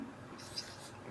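Pen or marker writing on a board during a chemistry lesson, a faint continuous scratching stroke lasting about a second, quiet and close.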